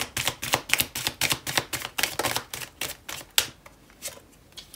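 Tarot cards being shuffled at close range: a rapid run of crisp riffling bursts, about three per second, fading toward the end with no talk over them.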